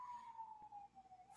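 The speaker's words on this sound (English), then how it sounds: "there's a siren that is passing" An emergency vehicle siren passes along a downtown Vancouver city street, a single wailing tone sliding slowly downward as it goes by, moderately distant over low traffic rumble, with no talk.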